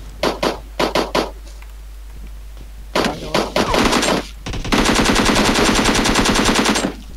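Gunfire in the mobile game PUBG Mobile: a few sharp single shots, then short bursts and finally a sustained, loud automatic volley lasting about two seconds.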